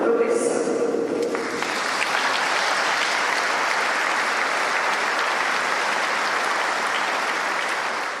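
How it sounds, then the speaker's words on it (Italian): Sustained applause from a newsroom staff tribute to a late colleague on a Sicilian TV news broadcast, steady and dense for about eight seconds after a brief voice at the very start. "Lacrime e tanti applausi per un'uscita di scena avvenuta troppo presto"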